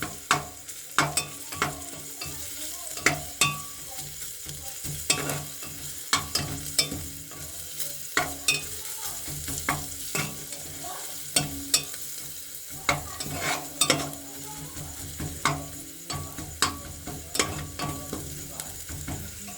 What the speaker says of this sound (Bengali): এবার রসুন থেঁতো দিচ্ছি।